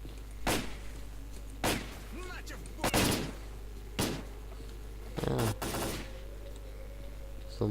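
Gunfire in the video game S.T.A.L.K.E.R.: Call of Pripyat, several loud separate shots and short bursts at irregular intervals, some paired, over a steady low background hum.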